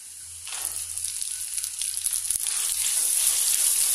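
About 100 grams of small onions frying in a pan for vatha kulambu, a steady close hiss of sizzling oil that swells after they drop in and keeps crackling, with no talking.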